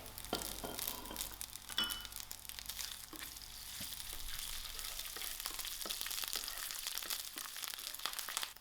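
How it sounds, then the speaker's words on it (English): Garlic, chilies and ginger frying in a quarter cup of oil for chilli paneer, a steady crackling sizzle up close with occasional scraping stirs and crunchy crackles, no voices. "To my oil, I'm going to add in my garlic, my chilies, and my ginger."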